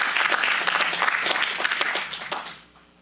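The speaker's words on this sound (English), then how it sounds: "Let's give them a round of applause." An audience at a Sutter County Supervisors regular meeting breaks into dense, loud applause that holds steady for a few seconds, then fades out quickly.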